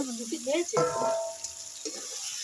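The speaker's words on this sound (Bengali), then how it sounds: "এবার আমি ভাজা ফুলকপি দিয়ে দিচ্ছি।" Fried cauliflower goes into a pan of cooked masala and sizzles loudly up close, with stirring scrapes and a brief voice at the start before the frying hiss settles down.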